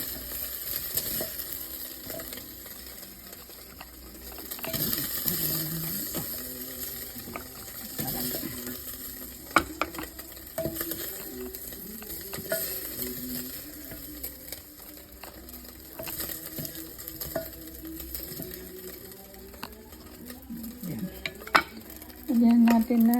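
Meat being sautéed and stirred in a pot for a hot soup, heard as continuous close scraping and clattering of a spoon against metal over a steady sizzle, with irregular knocks throughout.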